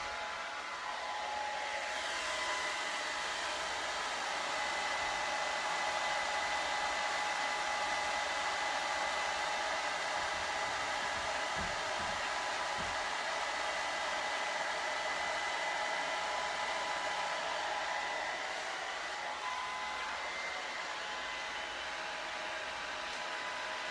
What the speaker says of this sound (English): The hair dryer is Remington. And the diffuser is the Curly Co.